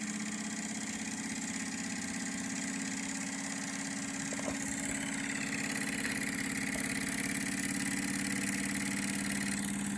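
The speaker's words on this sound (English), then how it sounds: "My own little steam engine here in Beacon" A Jensen Model 65 toy steam engine, unrun for about 20 years, runs steadily with a constant low mechanical hum and whir, close and alone at an even level, with a few faint clicks partway through.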